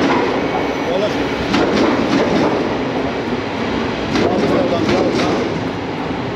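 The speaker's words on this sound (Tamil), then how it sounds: "இந்த ட்ரெயின் தான் நினைக்கிறேன் ஆம்ஸ்டர்டாம் சவுத் போகணும்" A train at Almere Centraal station in the Netherlands makes a loud, continuous rumble with wheel clatter and rail noise throughout, under voices in the background.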